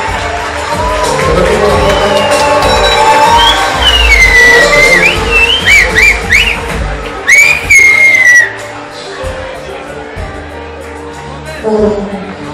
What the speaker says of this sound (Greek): Είναι η ώρα σας για το καλύτερο σας χειροκρότημα για την ορχήστρα του 1000.